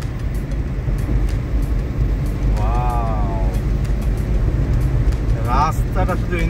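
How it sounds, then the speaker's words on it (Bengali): A car drives through Gorumara forest in the Dooars, its steady low road and engine rumble running throughout beneath a person talking. "গরুমারা জঙ্গলের মধ্যে দিয়ে ড্রাইভ করছি।"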